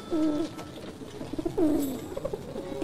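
Racing pigeons in Beijing give two close, clear rolling coos about a second apart, followed by softer murmuring calls, with no talking.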